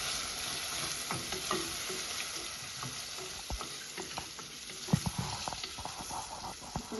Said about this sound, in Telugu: ఇప్పుడు ఉల్లిగడ్డ వేగుతుందండి. ఉల్లిగడ్డ వేగుతుంది ఇలా.